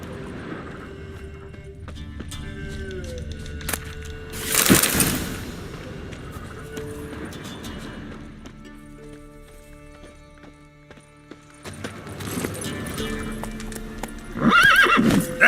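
Roach, the horse in The Witcher 3, galloping with rapid hoof clip-clops and letting out loud whinnies near the middle and again at the end, over game music and ambience.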